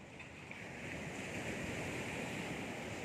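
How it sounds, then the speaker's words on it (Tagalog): Strong ocean waves at a beach in Baler, Aurora roll and crash in a steady, loud wash of surf with some wind noise, continuous and close with no voices. "Lalakas ng alon."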